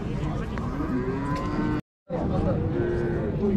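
Cattle at a livestock market in Merke, Zhambyl region, let out loud, drawn-out moos close by over steady crowd noise, broken by a brief dropout midway.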